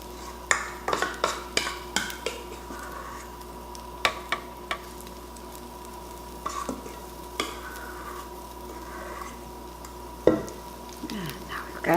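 Zucchini, bacon and parmesan fritter batter sizzles steadily on a hot griddle, with sharp scraping and tapping clicks from a metal pancake turner and utensils scattered throughout, close and fairly quiet.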